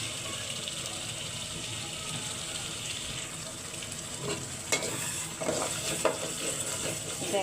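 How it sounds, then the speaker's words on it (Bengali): Khichuri being stirred and sautéed in a pot, a steady low sizzle and scraping that grows busier toward the end, with a few sharper clinks of the spoon against the pot. "তো আস্তে আস্তে কষাচ্ছি"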